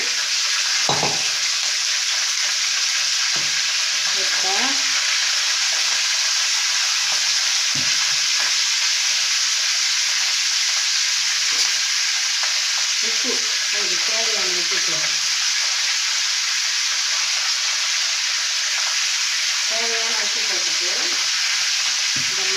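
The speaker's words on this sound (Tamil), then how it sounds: "நல்லா பொரிஞ்சிச்சு இப்போ நண்டை கடாயில் போடுறோம்" Crab frying in a kadai pan, a loud continuous sizzle and crackle of hot oil throughout, close up, with a few soft clinks and scrapes in between.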